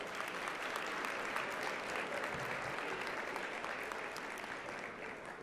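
A conference audience applauds with dense, even clapping that holds steady and close for several seconds, with no talk over it.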